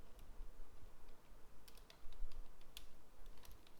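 Someone types a Google search on a computer keyboard: faint, scattered clicking keystrokes, light and irregular over a soft room hum.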